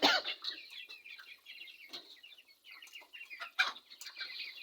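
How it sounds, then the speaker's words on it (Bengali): Faomi chickens feeding on cheap homemade feed mixed with salt: steady close clucking and soft chattering calls from a flock, with a few sharper squawks, and no talking. "দেখেন আমার মুরগিগুলো কি সুন্দর খাবার খাবে।"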